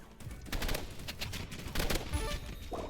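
Burst-fire weapons in a shooter video game: rapid clusters of gunshots in repeated volleys, loud and dense over game background noise, with a brief tonal in-game sound near the end.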